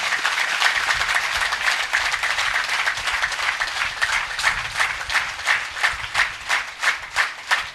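An audience at a religious discourse in a village in Hoshiarpur claps together in a sustained round of applause, which breaks into rhythmic, unison beats that grow more distinct toward the end.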